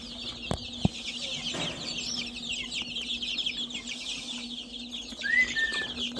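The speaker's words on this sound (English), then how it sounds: "Little Silky right there. Little Americana. A couple quail." Silkie and Americana chickens and a couple of quail make soft clucks and brief chirps over a steady background hum, with a short high call near the end.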